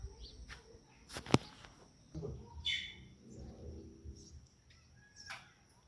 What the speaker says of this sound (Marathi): त्यात तो चिमण्यांचा किलकिलाट छान वाटतं सकाळ सकाळ.